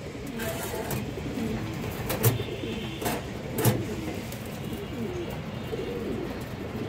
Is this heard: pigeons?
yes